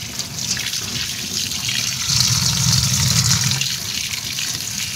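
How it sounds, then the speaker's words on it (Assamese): Tap water runs steadily into a sink while fish are rinsed clean for an Assamese fish curry, a continuous close splashing flow that swells louder midway, with no talking. "মাছখিনি ভালদৰে মই ধুই পৰিষ্কাৰ কৰি ল'ম"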